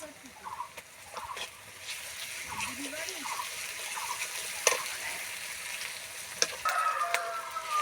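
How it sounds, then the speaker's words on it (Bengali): Onion and garlic frying in a pan, a soft, low sizzle broken by light stirring clicks and scrapes, with faint voice-like tones drifting in the background. "পেঁয়াজ ভাজা হয়ে গেছে ভালোভাবে, এবার আমি রসুন দিয়ে দিচ্ছি।"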